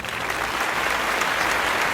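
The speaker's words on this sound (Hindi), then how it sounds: "जोरदार तालियां आपके लिए" A studio audience at a carols singing reality show breaks into full, dense applause after a performance, steady and loud from start to finish.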